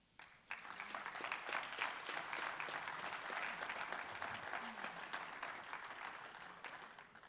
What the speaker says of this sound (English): make sure you give them a big round of applause for them